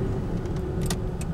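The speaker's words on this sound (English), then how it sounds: "How many of these dump trucks and cement mixers are electric?" Dump trucks and cement mixers rumble past in a steady low drone, a continuous road-traffic roar with a few brief higher rattles or hisses breaking through.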